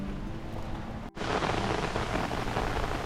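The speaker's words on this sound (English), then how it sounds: "It's raining again." Steady rain falls in a hiss of broadband patter around a sailboat anchored in the Caribbean near Bequia, continuous and fairly close, with no voices.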